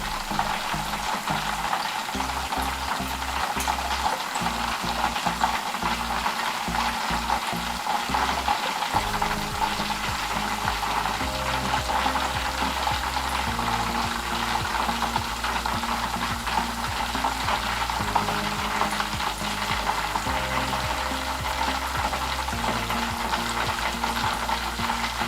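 Upperi banana chips fry in hot oil during Onam cooking, giving a steady, close sizzle with stirring and faint rhythmic scraping throughout, and a low humming tone beneath; no talking.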